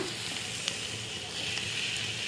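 Capsicum frying in a pan as tomatoes go in, giving a steady low sizzle with a few faint clicks and stirring touches throughout, fairly quiet and even.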